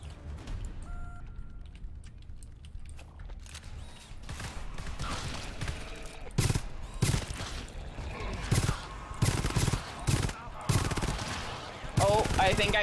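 Sniper sentry gun fire in the video game GTFO, heavy shots cracking out irregularly in bursts over a busy, dense mix of game noise and mechanical clatter, with voices talking underneath.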